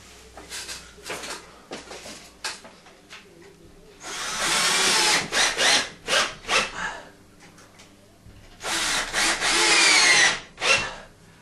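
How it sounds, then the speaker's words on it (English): A cordless power drill drives screws while can light fixtures are installed, with short bursts and two longer whirring runs, up close, mixed with handling noises and light scraping. "I've got a few more screws to put in here."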